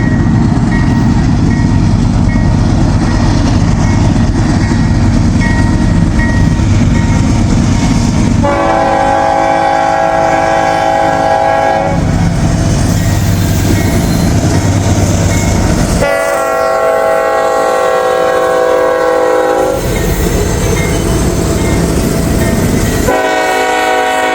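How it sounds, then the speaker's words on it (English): CPKC freight train with heritage and CPKC locomotives climbing a hill in Kentucky's Bluegrass region, heard as a loud steady rumble of engines and rolling cars, with repeated long horn blasts sounding close and strong over the train noise. "you guys hear that train climbing up the hill"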